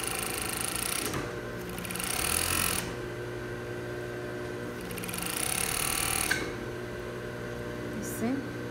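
A sewing machine stitches the side seam of a lined dress in two distinct runs, each a couple of seconds long, with a quiet gap between them; the whirring motor is close and moderately loud.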